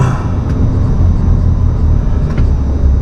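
Vehicle being driven toward Ramstein air base, a loud, steady low rumble of engine and road noise from inside the cabin, continuous throughout with a couple of faint clicks.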